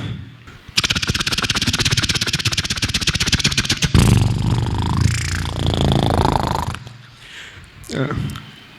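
A mimic voices a helicopter, first with a rapid rhythmic chopping pulse, then with a rougher, rumbling whir that fades before a short final burst.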